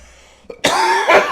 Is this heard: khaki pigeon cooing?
no